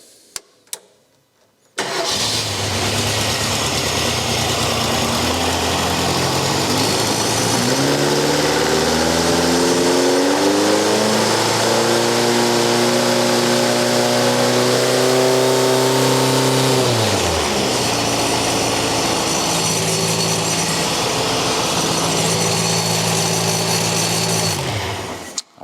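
An engine with no muffler cranks and catches after a brief pause, then revs up to about 4,000 RPM and holds a loud, raw, buzzing roar for many seconds before easing back toward idle and cutting off.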